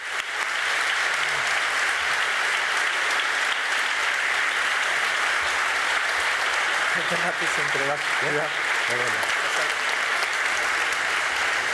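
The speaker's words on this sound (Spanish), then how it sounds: "Un aplauso." Audience applause at a Paul Auster tribute event, a dense, steady wash of clapping lasting the whole stretch, with a voice briefly speaking over it toward the end.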